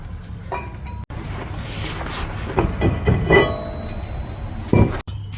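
A brake caliper comes off a car's front wheel during a wheel bearing job, with scattered metallic clinks, taps and scrapes of tools and parts, close by, and two sharp cuts in the sound.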